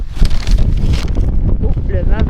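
Wind gusts roar across an outdoor microphone in a steady, loud broadband rush, with a brief voice-like tone rising near the end.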